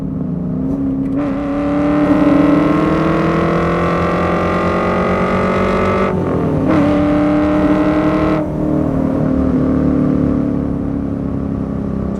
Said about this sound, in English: Has a hell of an exhaust note to it.